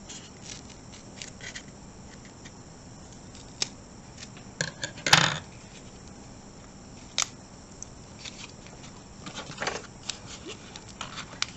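A piece of cardboard is folded and has a slot cut into it, making quiet, scattered creasing and snipping sounds, with one sharper crinkle partway through.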